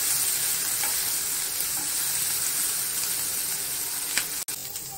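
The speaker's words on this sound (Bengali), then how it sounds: "ঢাকনার জলটা পড়েছে তো, তাই এরকম চড়চড় চড়চড় আওয়াজ হচ্ছে।" Water dripping from a lid into a hot pan where ivy gourd is frying sets off a loud, continuous crackling sizzle, with a sharp knock near the end and no speech.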